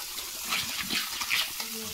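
Water gushing steadily from a broken tap, a close rushing, splashing flow with faint voices in the background.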